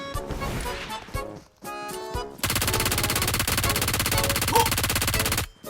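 Bursts of automatic rifle fire from the mobile battle royale game PUBG Mobile, a short choppy volley followed by a long sustained loud stream of rapid shots that stops abruptly.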